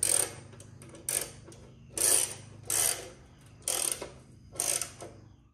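A ratchet driver with a T45 Torx bit tightens motorcycle saddlebag mounting bolts in six close, loud bursts of rapid clicking, evenly spaced about a second apart, with no voices.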